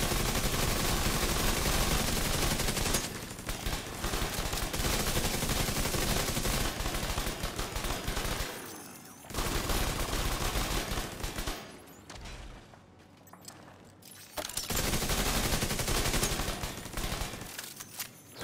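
Sustained bursts of rapid automatic gunfire from a deployed turret in The Division 2 video game, loud and dense, broken by short pauses around the middle and resuming strongly toward the end.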